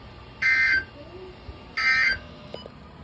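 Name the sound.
National Weather Service weather radio warning alarm tone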